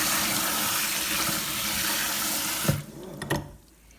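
Peeled green bananas being washed by hand in a basin of water, a steady close splashing and sloshing that runs for several seconds, then stops with a couple of sharp knocks and drips as the basin is set down.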